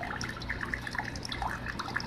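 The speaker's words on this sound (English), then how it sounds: "As you can see, this water coming out is super clean." Clean water runs from the outlet pipe of a slow sand bio-filter, a faint, steady trickle with small bright drips over a low background hum.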